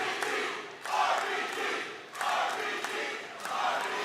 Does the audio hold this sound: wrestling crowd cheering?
yes